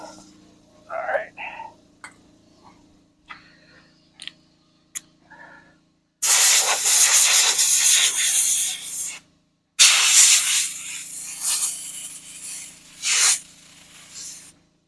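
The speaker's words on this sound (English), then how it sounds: "Forgot to hit the air compressor." An air compressor lets out two long, loud bursts of broadband hiss, each a few seconds long and separated by a short gap, after some faint quiet talk and small handling noises.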